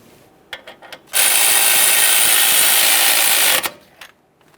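A 10mm mounting bolt being snugged on a 2015-2020 Ford F-150 4WD locking hub actuator with a power tool: a few light clicks, then one loud, steady whirring burst of about two and a half seconds, followed by faint handling taps.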